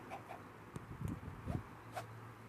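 A cartoon chicken in an Alan Becker animation gives a few short clucks and squawks, faint and spaced out, over a quiet background hum with no talk.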